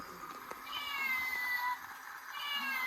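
A newly bought house cat meows several times in a row, drawn-out rising and falling cries, close and clear over a quiet indoor background.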